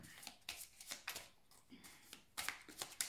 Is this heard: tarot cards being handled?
yes